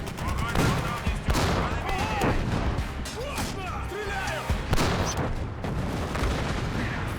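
Intense battle gunfire from the film Fury (2014): rapid bursts and heavy tank-gun booms with shouting voices, dense and continuous throughout.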